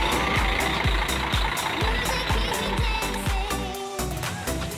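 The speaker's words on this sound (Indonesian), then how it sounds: "Jadi sekarang busnya sudah meninggalkan area keberangkatan di dalam perwakilan." A Mercedes-Benz O500R 1836 luxury bus with Laksana bodywork pulls away from a departure terminal, its diesel engine rumbling loudly under a steady series of regular reversing beeps.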